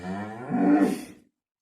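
A single cow on a farm gives a long, low moo that swells and then fades out, close and clear, with no other voices.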